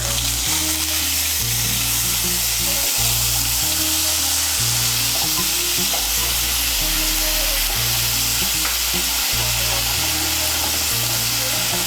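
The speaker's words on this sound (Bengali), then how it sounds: "আদা বাটা আর কাঁচা লঙ্কা বাটাটাকে তেলের সঙ্গে মিশিয়ে নেব।" Ginger paste and green chilli paste sizzle and fry steadily in hot oil in a pan for a Bengali prawn and sola kochu curry, a loud, continuous crackle with stirring and no talk.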